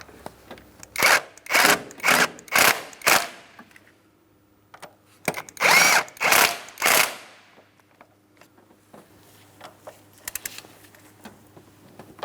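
A power tool snugs up the bolts on a transmission mount of a 2008-2016 Chrysler Town & Country 3.8L V6, heard as a quick rattling group of five bursts, a pause, then three more, close and loud.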